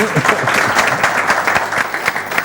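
Applause from an audience at a Samsun conservatory event for a girl named Zeynep, a steady dense round of clapping close by with no talk over it.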